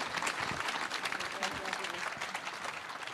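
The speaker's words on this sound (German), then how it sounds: "Das ist euer Applaus." Audience applause at the premiere of a new tram, a dense steady wash of many hands clapping that holds for a few seconds with voices mixed in.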